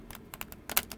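Deck of oracle cards being side shuffled, a quick run of soft crisp card flicks, faint and close.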